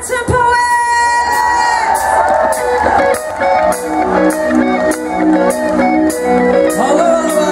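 A crowd whoops and cheers for a band at a live Gay Pride 2013 concert, loud and continuous over the band's sustained tonal music.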